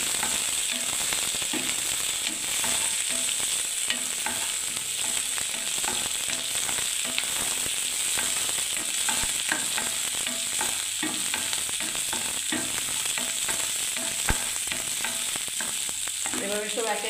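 Onions frying in a pan and being stirred, a dense continuous sizzle with scraping and clicking of the spoon against the pan, close and steady with no talking.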